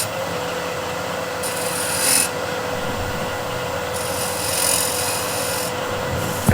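Negative rake scraper shaving a rough patch on turned wood, giving a steady, dry rubbing rasp with a few brighter swells, close and alone.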